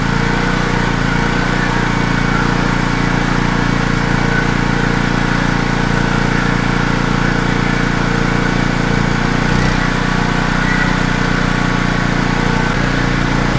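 A Wacker portable generator engine runs at half choke with a steady, loud drone that surges unevenly, carrying on without a break and with no talking.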